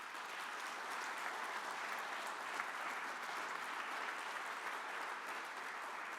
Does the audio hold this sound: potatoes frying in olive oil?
no